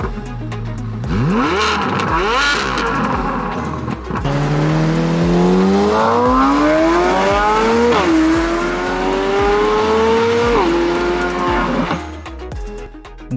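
A 2023 Corvette Z06 with a 670-horsepower flat-plane-crank V8 revs loudly and up close, its high-pitched scream climbing and dropping through repeated sweeping pulls over about thirteen seconds.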